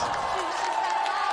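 Home crowd at a women's bouldering World Cup semi-final in Keqiao swells into a sustained, dense roar of cheering, filling the whole moment with steady broad noise and whistles.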